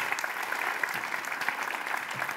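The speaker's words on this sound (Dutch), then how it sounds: "Applaus, jongens." Studio audience at a talk show clapping steadily, a moderately loud, even wash of applause with some sharper individual claps standing out.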